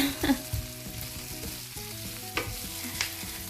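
Onions frying in a pan, a continuous sizzle with occasional stirring scrapes and clinks, close by with no talking.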